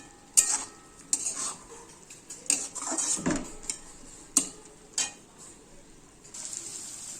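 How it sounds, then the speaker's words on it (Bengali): Shapla (water lily stem) curry with coriander leaves is stirred in a pan, with repeated scraping and clinking of a spoon against metal amid a faint sizzle, close and moderately loud. "ধনে পাতা দিয়ে একটু নাড়িয়ে দেবো"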